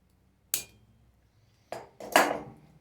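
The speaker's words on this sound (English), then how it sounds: "the first part of hammering" A hammer strikes a rivet joining leather to metal, three sharp metallic taps with pauses between, the last two closer together and ringing briefly.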